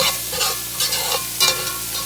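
Garlic sweating in a hot pan for a veggie bolognese gives a steady, close sizzle with a few stirring scrapes and brief louder flare-ups, no voices.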